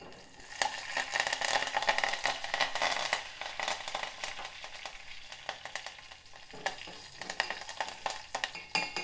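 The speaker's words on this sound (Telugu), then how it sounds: "కరివేపాకు ఇలా చిటపట్లాడినాక మనం స్టవ్ ఆఫ్ చేసుకోవాలి" Curry leaves and garlic crackle and sizzle in hot oil for a Telugu garlic-chili tempering, a dense, steady frying hiss with sharp pops scattered throughout, loud and close with no voices.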